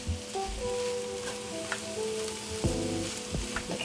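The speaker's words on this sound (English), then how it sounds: "I'm gonna add my kale, my chopped kale." Chopped kale tumbling into a pot of vegan kale, cabbage and butter bean soup sets off a steady close sizzle with soft stirring clatter and a couple of sharper knocks, no talking.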